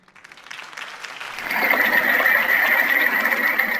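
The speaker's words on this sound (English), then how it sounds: "could have heard that applause" A crowd in a video game breaks into applause after a mayoral campaign speech, the clapping swelling from a few claps into a loud, dense, sustained ovation.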